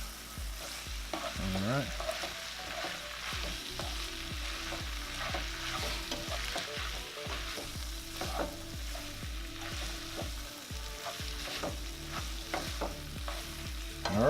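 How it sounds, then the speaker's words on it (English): Cooked spaghetti sizzles in a pan as it warms through, with frequent rhythmic stirring and scraping strokes over a steady frying hiss; a voice speaks a brief word. "we're going to get this cooked through, warmed through a little bit"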